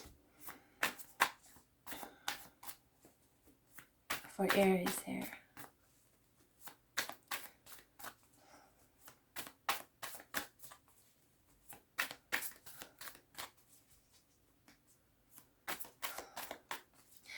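Tarot cards are shuffled in crisp, rapid riffling bursts, repeated many times with short pauses and one longer, denser shuffle, while someone talks quietly between them.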